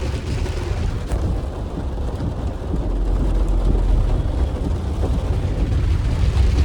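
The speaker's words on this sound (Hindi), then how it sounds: "ओके सा हुआ कि बारिश थोड़ी और ज़्यादा हो गई" Heavy rain falling steadily outdoors, a dense, continuous broadband wash with a deep low rumble, building slightly louder through the second half.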